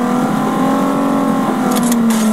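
Car engine revving in Fortnite, a steady sustained hum with a strong low tone, holding loud and even for about two seconds with brief bright digital chirps near the end.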